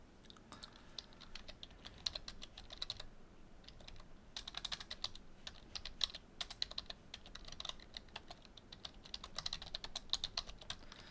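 Computer keyboard typing a command, quick bursts of light clicking keystrokes with short pauses in between, faint and close, with no talking.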